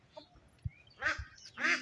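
Ducks quack in two short bursts close by, with quieter rustling and a soft thump in between.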